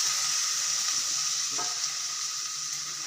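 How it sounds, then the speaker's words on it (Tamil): Chopped tomatoes drop into a hot pan of oil while cooking a Tamil medicinal kuzhambu, giving a steady, moderately loud sizzle and frying hiss throughout, with a brief stir partway through and no talking. "இப்போது நான் அரிஞ்சு வச்ச தக்காளியும் சேர்க்குறேன்."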